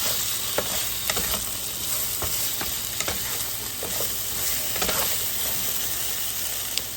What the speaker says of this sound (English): So here I'm still just mixing in those ingredients, and we're going to cook this a little longer